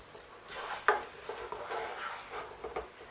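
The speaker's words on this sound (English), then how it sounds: "So transfer your pot onto a stove and start mixing with the aid of a pestle." A wooden spoon stirs thick cassava fufu in a pot on the stove, giving soft scraping and thudding knocks in an uneven rhythm, close and moderately quiet.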